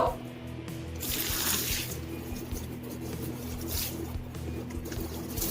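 Water is poured over a wig to rinse off herbal indigo (avuri) powder dye, giving a soft, continuous splashing and trickling close by.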